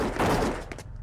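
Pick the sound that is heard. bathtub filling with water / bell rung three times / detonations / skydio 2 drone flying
detonations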